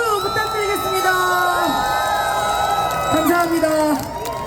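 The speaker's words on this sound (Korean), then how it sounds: "우리 샤우팅 코리아에게 다시 한번 큰 박수 부탁드리겠습니다" A crowd cheers and shouts at a street political rally in Hongdae, Seoul. The loud, continuous roar of voices blends with sustained tonal sounds.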